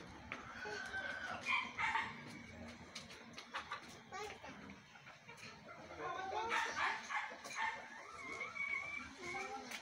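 Chickens cluck and squawk in a backyard amid a busy, noisy scene, with a dog barking now and then and children shouting and talking over them throughout.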